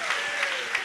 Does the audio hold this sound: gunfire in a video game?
no